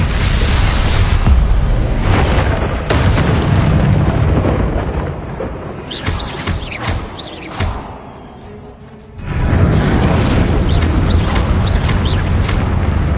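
Explosive spell blasts from Hogwarts Legacy, a Confringo fire spell among quick casts, booming loudly with bursts and whooshes in the first seconds and again near the end, with a quieter gap in between.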